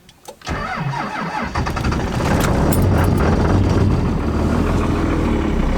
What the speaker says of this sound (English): That was the best cold start ever.